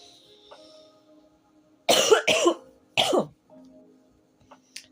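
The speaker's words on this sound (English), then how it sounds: "Sorry I'm coughing, y'all." Three sharp coughs close up, the first two in quick succession and a third a moment later, in an otherwise quiet room.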